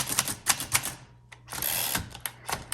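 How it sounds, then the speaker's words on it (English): Typing on a 1948 Underwood Champion portable typewriter: close, crisp key strikes in quick uneven bursts, with a brief pause and a short ratcheting carriage sound before the clacking resumes. "despite my poor typing skills at the moment, this is an excellent typing machine"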